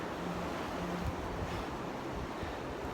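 Wind sweeps across a foggy hiking trail in a continuous low, breathy rush, steady and moderately loud with mild gusting, and no voices present.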